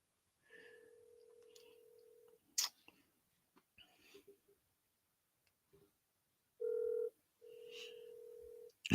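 Telephone dialing tones sound while a call is being returned during a live talk broadcast: a long steady tone, then a sharp click and scattered soft clicks, and finally a louder tone burst followed by another sustained tone, with no one speaking.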